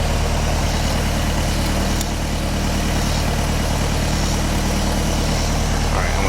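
Ford Model A car engine running steadily and loud, a dense mechanical drone with a low chugging pulse, heard close and continuous with no pauses.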